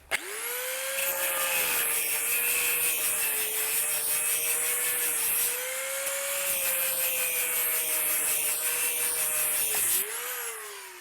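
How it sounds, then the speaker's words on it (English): Angle grinder cutting through a car exhaust, a loud steady high-pitched whine with a slowly shifting tone and harsh cutting noise running nearly continuously for about ten seconds, no talking. "Let's get the angle grinder out."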